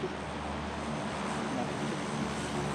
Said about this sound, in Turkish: Uçak var ya, tam uzaklar.